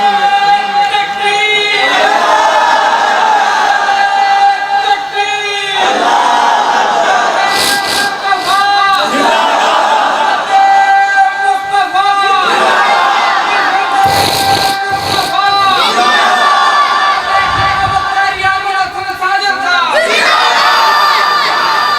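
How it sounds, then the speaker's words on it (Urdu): A large crowd at a religious gathering chants slogans in loud, rhythmic call-and-response waves, voices rising together over an amplified lead voice, with brief pauses between chants. "محبت ہے نا ویکھ لو نعرے لا رہے ہیں"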